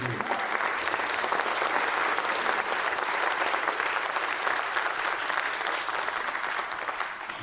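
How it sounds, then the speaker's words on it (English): Audience at a high school fall concert applauding a band performance, a sustained, even wash of clapping from many hands that holds steady for several seconds before tapering slightly at the end. "So one more round of applause for that."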